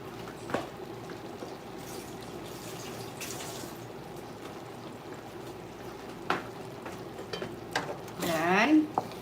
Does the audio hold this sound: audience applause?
no